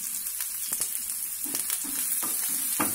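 Curry leaves sizzle and crackle in hot oil in a pan, with sharp spitting pops scattered over a steady frying hiss, close and fairly loud with no voices.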